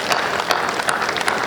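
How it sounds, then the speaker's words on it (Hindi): Audience applause at a Hindi kavi sammelan poetry gathering, a dense steady wash of many hands clapping throughout, fairly loud and continuous with no clear talk. "गर एक बार जोरदार तालियां मिले।"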